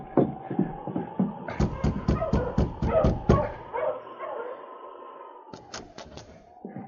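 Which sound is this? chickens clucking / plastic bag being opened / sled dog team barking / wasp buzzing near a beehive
sled dog team barking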